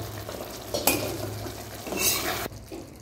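Paneer sizzles in a pan while a utensil stirs and scrapes against the metal, with a couple of sharp clinks. The frying hiss is close and moderately loud, then drops off near the end.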